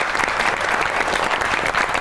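A studio audience breaks into loud, dense applause to welcome a guest on a comedy talk show, continuous clapping that fills the whole stretch.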